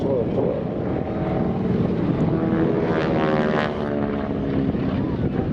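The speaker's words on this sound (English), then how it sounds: "There's that propeller sound that you hear all the time in the movies." A propeller-driven warbird flies past at the Wings over Illawarra 2016 airshow at Illawarra Regional Airport, its steady loud engine drone and buzzing airscrew filling the whole stretch, with wind buffeting the microphone.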